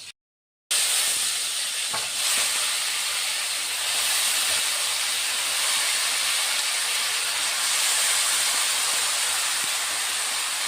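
Garlic frying in a pan before taro goes in for a taro-leaf dish, a constant loud hiss that starts abruptly after a brief silence and holds evenly throughout.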